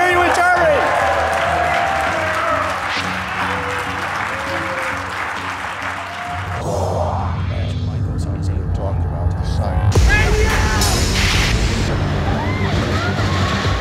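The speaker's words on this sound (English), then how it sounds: "Really loud cheer for Naomi Sykes, so she can hear you in Germany." A loud crowd cheers and applauds for Naomi Sykes, a broad roaring wash that swells and sustains for several seconds, with voices mixed in and shifting through the din.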